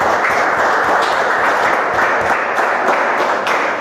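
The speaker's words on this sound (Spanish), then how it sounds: "Démosle un aplauso al Señor, por favor." Sustained applause from a congregation at a church service, dense steady clapping filling the space at close range for the whole stretch.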